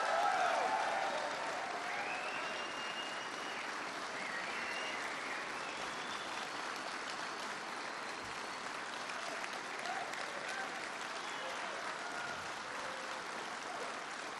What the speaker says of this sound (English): Were you applauding for someone in particular?